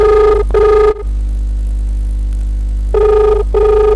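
A telephone call rings through the earpiece in a repeating double-ring pattern, two short tones, a pause, then two more, steady and fairly loud over a constant low hum, with no talking.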